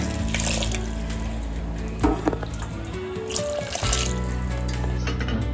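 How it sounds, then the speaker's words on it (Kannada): Steady hot water pouring into a cooking pot for pulao rice, close by, with a brief clatter midway and low background hum. "ಬಿಸಿನೀರೇ ಹಾಕ್ತಾ ಇದ್ದೀನಿ"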